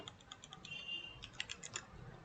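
Computer keyboard being typed on while writing Flutter code, giving a quick, soft run of key clicks with brief pauses, faint and close with no voices.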